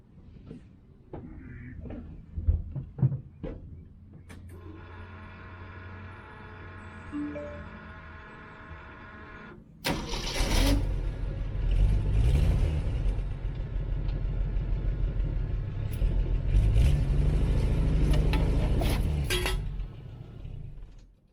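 A Jeep CJ-7 engine kicks into life after a quieter humming stretch, then runs at a loud, steady rumble close by until the end, with no talk.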